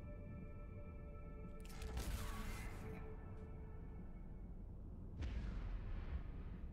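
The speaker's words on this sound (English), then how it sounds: "Damn it, torpedoes again" Torpedoes explode against a ship in the space game Avorion, heard as two broad, rumbling bursts, the first swelling and fading and the second hitting sharply later, over a steady low engine-like drone.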